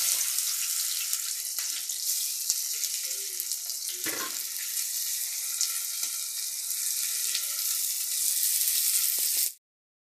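Onion hits hot oil already seasoned with bay leaf and crushed whole spices for a mutton curry, giving a loud, steady sizzle and crackle with a brief stir, until it cuts off abruptly near the end.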